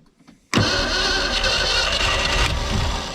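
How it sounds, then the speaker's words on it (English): An abandoned 1973 Mercury Comet GT, long unstarted and with a previously stuck engine, cranks suddenly after a brief quiet moment, the starter and engine churning loudly and steadily for nearly three seconds, close by. "see if she'll crank"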